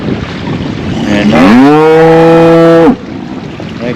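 An old, thin cow with her calf gives one long, loud, close moo rising in pitch and holding steady, outdoors near a small Brangus cattle farm, with wind and low background noise around it.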